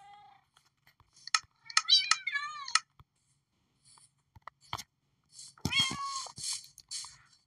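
Minecraft cat meowing in short, scattered calls, a few quick mews followed by a longer plaintive meow, close and clear against near silence with faint clicks between.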